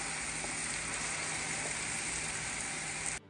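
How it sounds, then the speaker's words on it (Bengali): Onion sizzling in hot oil in a pan, a steady dense crackling fry that holds evenly for about three seconds before cutting off abruptly, with no voices over it. "পেঁয়াজটাকে দিয়ে একটু ভালো করে ভেজে নেব।"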